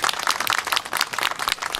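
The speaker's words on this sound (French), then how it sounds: "je pense qu'on peut faire quelques applaudissements" Applause from an audience at a gathering honouring volunteers, a steady wash of many hands clapping at close range, fairly loud and continuous with no talk.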